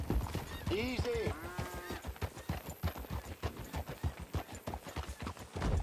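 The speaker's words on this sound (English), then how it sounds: "Get a hold of that horse," Horse hooves clip-clop in a quick steady rhythm with a loud neigh near the start, from the western video game Red Dead Redemption 2, with a voice speaking over the hoofbeats.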